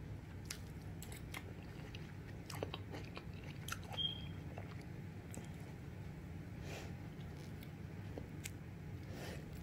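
Close chewing and biting of sautéed yellow squash, a steady soft crunchy mastication under a low background hum, no talking.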